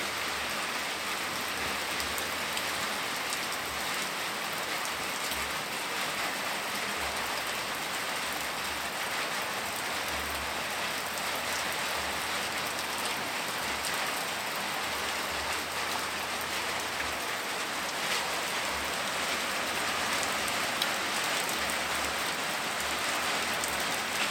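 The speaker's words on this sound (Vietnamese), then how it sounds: "Hôm nay trời mưa." Steady, heavy rainfall pours down without a break, a dense hiss of countless drops drumming on a surface, with no voices.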